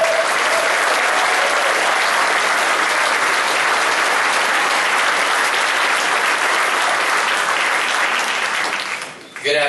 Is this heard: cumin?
no